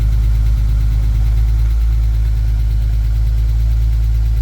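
A BMW E30 engine idling steadily just after starting, a loud, close, even low rumble with no talk over it.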